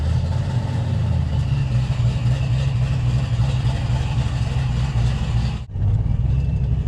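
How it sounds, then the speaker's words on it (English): A boosted, high-compression Ford 302 V8 on stock rods and crankshaft runs loud and close, with a steady, heavy engine drone that dips sharply for a moment near the end before picking right back up. "I did rev it up. The car seems to rev a lot quicker than it did."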